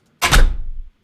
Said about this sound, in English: So basement door